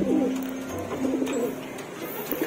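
Racing pigeons coo in a low, repeated throaty murmur, close and steady throughout with faint background noise.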